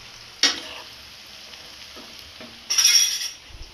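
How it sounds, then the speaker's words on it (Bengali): Meat sautéed with spices in a pan gives two short bursts of sizzling frying, one brief and one longer near the end, with a quiet kitchen background between them. "এই দেখো মাংস কষাচ্ছি।"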